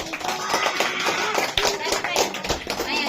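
Children clap their hands in a busy room, an uneven run of sharp slaps mixed with voices and chatter throughout.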